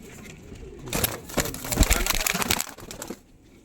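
Pigeons coo softly behind loud rustling and crinkling handling noise that swells through the middle and fades near the end.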